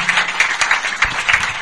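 A church congregation claps steadily in a loud, dense, continuous wash of applause with a fairly even rhythm.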